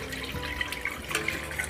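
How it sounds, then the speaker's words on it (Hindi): Besan batter pours into a pan with oil, a steady liquid gush and light sizzle heard up close with no talk. "जैसे ही आपने घोल डाला इसे हमें लगातार चलाते रहना है"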